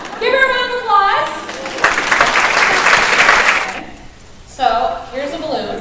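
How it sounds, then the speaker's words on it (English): Audience applause breaks out for a volunteer at a speaker's presentation, a few seconds of steady clapping following a voice, with talking resuming after it fades. "Give her a round of applause."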